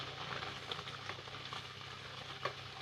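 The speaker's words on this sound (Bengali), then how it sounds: "এখন হালকা নাড়াচাড়া করে দিতে হবে" Aloo dum, a potato curry, gently stirred in a pot while it simmers, giving a steady soft sizzling bubble with faint scraping and a few light clinks of the spoon against the pot.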